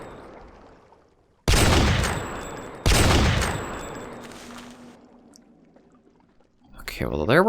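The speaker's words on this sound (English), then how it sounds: "there were a few shots on him, but again, even 3's not enough to take one down" Gunfire in the Jurassic Park Revolution video game, aimed at a dinosaur: two loud, sharp bursts ring out about a second apart and each decays slowly, then a voice briefly rises near the end.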